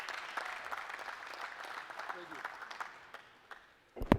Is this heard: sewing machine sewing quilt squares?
no